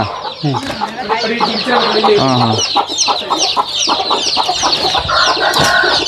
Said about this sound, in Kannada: ನಾಟಿ ಕೋಳಿ ಅಂದರೆ ಹೀಗೆ